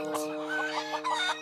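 Cartoon chickens clucking in a lively, dense burst of overlapping squawks and clucks, loud and close, over a steady musical drone.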